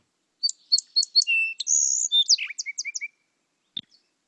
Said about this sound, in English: That's a good song sparrow.